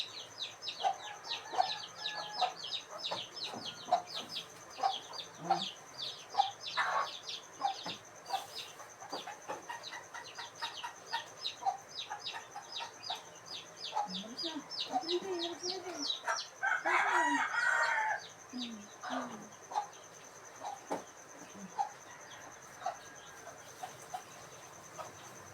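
Chickens cluck steadily while a rooster crows, with bird chirps throughout; the clucking is close and busy, and a louder burst comes near the middle.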